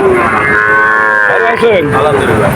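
A calf moos loudly and close by, with long drawn-out bellowing calls that waver in pitch, set against a busy cattle market background.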